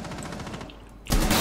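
Automatic gunfire in Rainbow Six Siege, a rapid rattling burst of shots, briefly easing before a louder, denser close volley erupts at the end.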